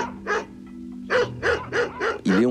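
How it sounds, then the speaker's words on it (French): Dogs bark in a recording from a criminal case, a run of about six sharp, fairly close barks in an uneven rhythm, separated by brief pauses, with no voices over them. "Et ils entendent en arrière-plan des aboiements lointains."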